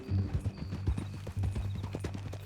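Horse hooves clip-clop in a steady, close rhythm on a ranch-style trail in the Red Dead Redemption 2 video game, repeated strikes running throughout with low background ambience and no talk.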